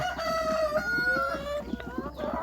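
Laying hens cluck in a Thai backyard coop while a rooster crows loudly and close by, a long drawn-out call that dominates over the softer, rhythmic clucking.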